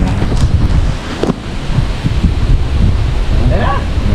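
Strong wind buffets outdoors in Mahogany, Pampanga, a loud continuous rumbling gust noise hitting the microphone, with a faint voice briefly near the end.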